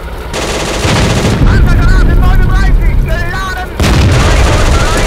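In the Steel Fury tank game, a King Tiger's main gun fires amid a loud, dense battle roar. Abrupt jumps in the din mark the shots, and crew voices can be heard through the noise.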